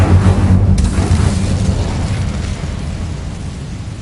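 A roaring, fiery burst from the Incendio fire spell in the video game Hogwarts Legacy, cast to burn away a spider's mess; loud at first, then rumbling and slowly fading with no voices.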